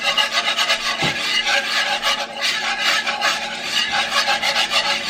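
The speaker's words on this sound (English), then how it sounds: "I'm gonna grab my whisk here." A whisk beats batter in a mixing bowl for fried ribs, a steady fast scraping and rubbing that runs continuously and close throughout, with no talking.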